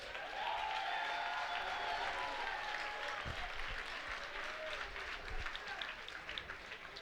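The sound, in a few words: audience applause at kickboxing event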